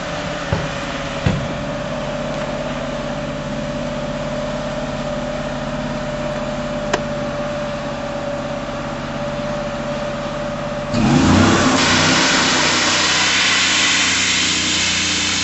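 A Cobra cutting system runs with a steady mechanical drone and a sustained tone, and near the end a louder, broadband engine-like roar kicks in and continues.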